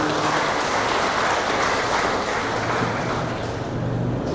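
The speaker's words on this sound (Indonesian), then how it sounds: "Beri tepuk tangan yang meriah Bapak Ibu sekalian." Audience applause at a maternal health launch event, a dense, steady wash of many hands clapping at once, loud and continuous throughout without pauses.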